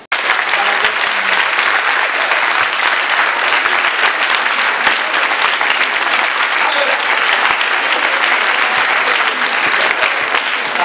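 Loud, dense audience applause at Matteo Renzi's political rally in Treviso, continuous close clapping from a large crowd sustained throughout with no break.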